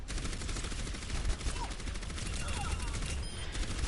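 Rapid automatic gunfire from the Tusk weapon in a video game, a steady dense stream of shots close and loud across the whole stretch, with a voice talking over it.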